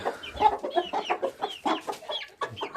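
A hen clucks steadily up close, a run of short, throaty calls with rising chirps between them, loud and alone in a farmyard setting.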